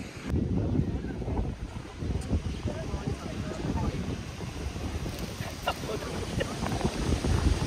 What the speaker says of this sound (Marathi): सुंदर असा समुद्र आहे. लाटा आहेत